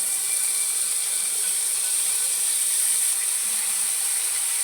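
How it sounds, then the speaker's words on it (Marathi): Unsweetened khoa is roasted in a pan, giving a continuous soft sizzling hiss at a steady level with no talk over it. "आता आपण खवा परतून घेऊयात हा बिना साखरेचा खवा आहे"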